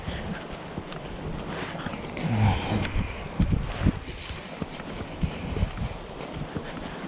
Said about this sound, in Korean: 지금 바람이 지금 이렇게 풀들 움직이는 거 보면 느낄 수 있을 거예요. 바람이 상당히 많이 분다는 것을.